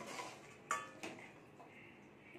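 A cooking pot of vegetarian pumpkin and potato curry is lifted off a gas stove that has just been switched off, giving two sharp metallic clanks close by over a soft background hiss, with no talking.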